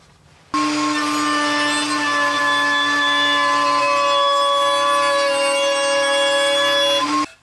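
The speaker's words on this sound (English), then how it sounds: "use the starter pin and slowly work my way in, and I'll just nibble away at it until we get the tenon cut" Router nibbling into a wooden tenon against a starter pin, a steady high whine running continuously for about seven seconds at close range, starting and stopping abruptly with no talk.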